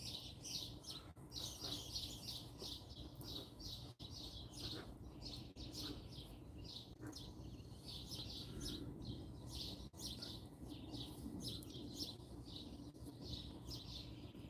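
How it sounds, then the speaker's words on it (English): Birds chirp and tweet steadily in a cool early-morning Pennsylvania setting beside a firepit, a dense, continuous chorus of bright repeated calls with a low outdoor rumble beneath. "Can you hear the birds?"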